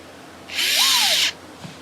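A brief, close whirr of a power drill driving screws into a table leg bracket on an upside-down table, lasting under a second with a rising and falling pitch, no talk.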